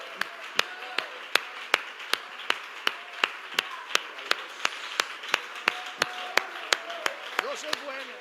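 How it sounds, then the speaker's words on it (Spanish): Rhythmic unison clapping from a church congregation, evenly spaced sharp claps at a brisk steady beat for several seconds, fairly close, with voices underneath. "Dele ese aplauso al Señor Jesucristo"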